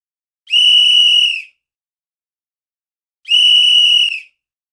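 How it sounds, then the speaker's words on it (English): Two long, shrill whistle blasts, each about a second, separated by a few seconds of silence, clear and close with a steady high pitch. "A whistle."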